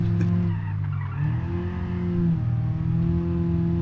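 A Lada 2102 without ABS slides in the BeamNG Drive driving game, its engine droning steadily while the tires skid and squeal, loud and continuous.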